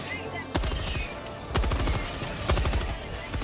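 Rapid bursts of automatic gunfire from the video game Helldivers 2, three loud volleys roughly a second apart over a steady backdrop of game noise and chatter.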